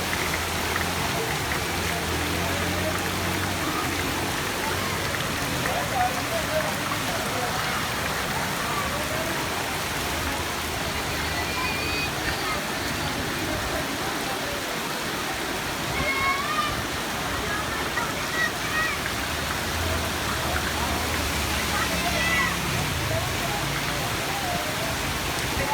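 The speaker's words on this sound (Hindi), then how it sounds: "बड़ी हैवी रेन हो रही है।" Heavy rain pours steadily during a storm with flooding water pooling, a dense continuous hiss filling the scene at even loudness, with faint voices murmuring underneath.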